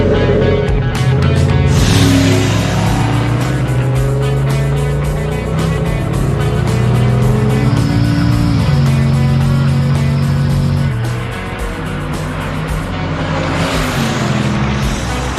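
A 1,000 hp hot rod engine roars loudly and steadily at close range, its deep tone shifting in pitch as it revs up and settles, then easing slightly near the end.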